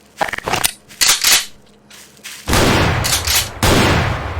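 Shotgun firing at enemies in Garry's Mod, several loud sharp blasts with crunchy decaying tails, two quick bursts early then longer heavy booms later, close with no talk.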